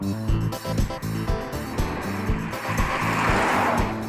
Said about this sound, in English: Gearbox is quiet, diff's quiet. Yeah, engine's quiet. Rides along nice.